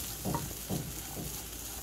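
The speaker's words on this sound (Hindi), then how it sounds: "नींबू का रस डालने के बाद इसे अच्छे से मिक्स करेंगे।" Roasted poha with fresh lemon juice stirred in a pan for a high-protein breakfast, giving three soft scraping strokes spaced evenly over a low, steady background hiss.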